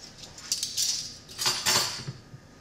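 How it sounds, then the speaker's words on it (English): Yeast bagel ingredients mixed in a bowl, a few light clinks and scrapes of a utensil against the bowl, close and fairly quiet with pauses between strokes. "We're gonna mix that together."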